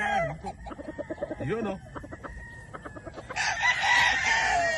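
Broodstag roosters cluck in quick repeated calls and crow nearby, with a longer, louder crowing burst near the end, and a brief word spoken among them.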